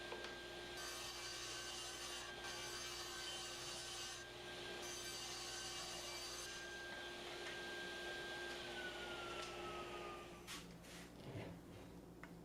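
A SawStop table saw rips wooden boards into strips just over 1.5 inches wide, its steady motor whine and cutting noise running continuously in a workshop before winding down near the end.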